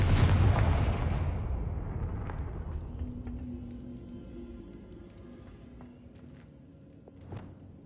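A Confringo fire spell explodes in Hogwarts Legacy with a loud, deep blast right at the start. It trails off into a long rumbling decay, and a couple of smaller pops follow later.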